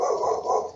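A dog barks and growls indoors during a casual podcast-style conversation, a short, sustained, fairly loud vocal burst close to the microphone with no clear speech over it.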